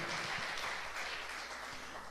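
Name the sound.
congregation applauding in church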